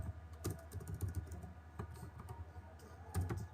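Someone types on a computer keyboard during a Python programming class. The keys click quietly and irregularly in short bursts, with no voices over them.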